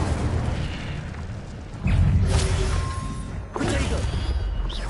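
Incendio fire spell cast in Hogwarts Legacy, a loud whooshing burst with a booming flare of flame, followed shortly by a second burst over steady game ambience.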